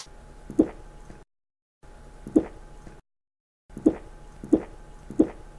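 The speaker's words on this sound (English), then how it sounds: "I was swallowing a sip of carbonated water." A sip of carbonated water being swallowed, heard as four short, soft gulping plops spaced apart, close and quiet, with no talking.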